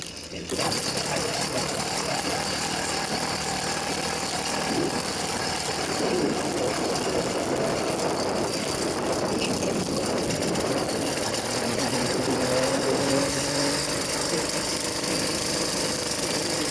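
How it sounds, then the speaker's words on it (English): A 100cc motor fitted to a bicycle, being broken in on a road with traffic, runs with a steady, loud buzzing drone that holds throughout with no pauses. "This is why you let me install the bike motor and get it running for you."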